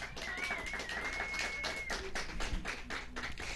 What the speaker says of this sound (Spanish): ¡Aplausos, chavos!